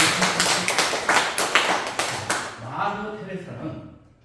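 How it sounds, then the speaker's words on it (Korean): An audience at a laughter-coaching lecture at a university continuing education centre gives a short burst of rhythmic clapping that fades out, while a voice speaks over it. "박수 한번 주세요."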